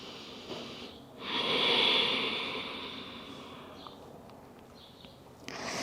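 A slow, deep breath in yoga child's pose, heard close as a long airy exhale that swells and fades over a couple of seconds, followed by quieter breathing, with no talking.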